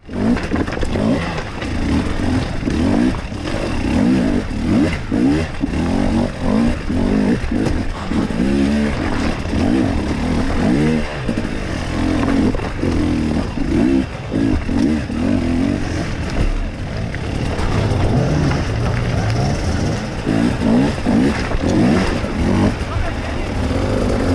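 Enduro motorcycle engine revving continuously while riding up a riverbed at the RAW Summit Extreme Hard Enduro, steady and fairly loud with fluctuating throttle throughout.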